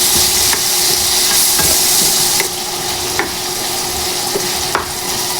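Onion, garlic and tomato sautéing in a frying pan for mung bean stew, a loud, steady sizzle broken by regular scraping knocks of the stirring spoon.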